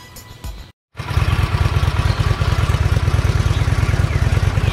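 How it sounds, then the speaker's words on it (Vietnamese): A Honda Shadow Aero 750 motorcycle, a US import, starts up after a brief silence. It then settles into a steady, loud, close idle with a rapid, even pulsing beat. "Bây giờ thì mình thử nổ máy cho anh em nghe nha."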